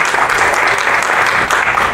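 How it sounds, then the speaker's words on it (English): Loud, dense applause from a crowd, sustained clapping filling the whole moment without pause. "Give another applause."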